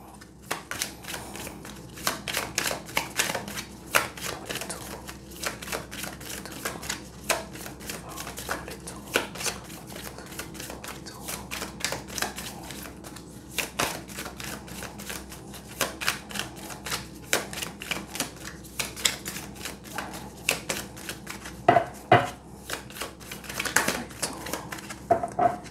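A deck of cards is shuffled for a horoscope card reading, a long continuous run of crisp riffling flutters and snaps close by, with a voice speaking now and then.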